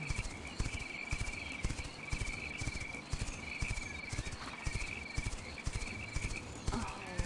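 In the video game Quinfall, a horse's hooves clop in a steady, even rhythm throughout, accompanied by a constant high insect-like ambient drone.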